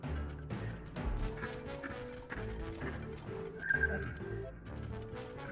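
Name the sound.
horse hooves and neighing from video game Tears of the Kingdom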